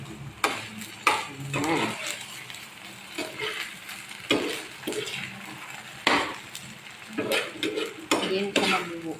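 A utensil scrapes and clatters repeatedly against a pan as food is stirred while cooking, with irregular knocks over a faint sizzle and a brief word spoken.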